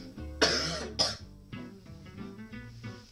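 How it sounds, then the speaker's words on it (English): Two loud, harsh coughs in quick succession, close to the microphone, followed by quieter breathy throat noise. "I'm about to cough my guts out"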